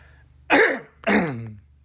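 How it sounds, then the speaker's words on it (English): Two harsh throat-clearing bursts, close and loud, separated by a brief pause, with quiet room hum around them. "Clear my throat here."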